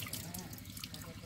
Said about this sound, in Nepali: नलकमा आएर यो साग पखाली राख्नु भएको छ